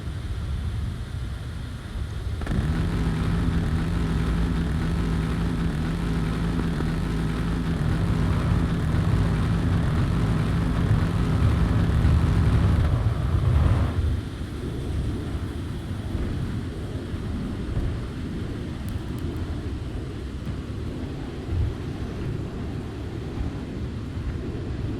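A propeller aircraft in ARMA 3 drones steadily at close range, a loud sustained engine hum that holds for about eleven seconds and then cuts back to a quieter rumbling background.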